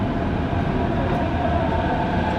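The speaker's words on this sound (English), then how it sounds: "that is a suspended in the air monorail" A suspended monorail in Chiba, Japan, running on tracks overhead, gives a steady, continuous rumble and hum at a moderate distance that fills the whole stretch without a break.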